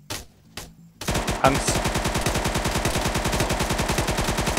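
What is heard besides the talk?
gunfire from the video game Arma 3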